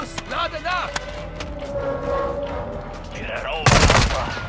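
Rapid gunfire in a first-person shooter video game crackles beneath someone speaking German, with a loud, dense burst of shots breaking out toward the end.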